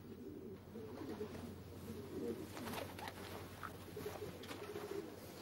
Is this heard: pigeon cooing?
yes